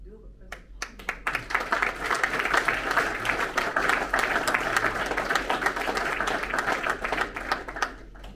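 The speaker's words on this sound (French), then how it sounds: "je demande d'applaudir les deux représentants" An audience at a general assembly claps for two representatives. The applause is steady and sustained, with dense crackling hand claps that build quickly and hold for several seconds before tapering slightly.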